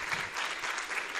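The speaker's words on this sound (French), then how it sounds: "que je vous demande d'applaudir" Audience applause at a medical school graduation ceremony in Saint-Louis, a steady dense wash of clapping from a large hall crowd, even and sustained throughout with no talk over it.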